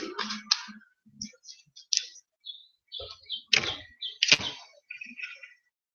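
Tarot cards are shuffled up close in a series of quick riffling flutters and soft slaps, with quiet pauses between bursts.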